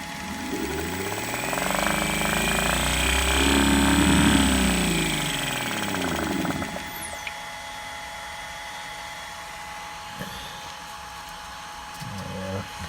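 A damaged piston compressor runs while pumping liquid, a loud rough mechanical drone that swells and then drops to a lower steady rumble, with a few sharp clicks later.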